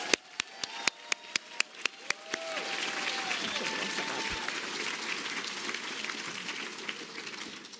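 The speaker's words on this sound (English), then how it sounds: "Let's give another round of applause for our 2025 graduates." A round of applause breaks out for 2025 graduates at a law school hooding ceremony, opening with a few sharp, distinct claps that quickly swell into steady, moderately distant clapping from a seated audience.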